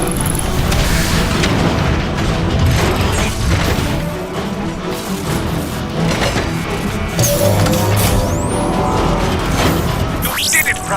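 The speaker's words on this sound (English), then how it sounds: "The neutron gun is activating." The neutron gun in the Transformers: Fall of Cybertron video game powers up with a loud, sustained roar of crashing booms and rumbling energy, continuous throughout with rising whistling sweeps near the end.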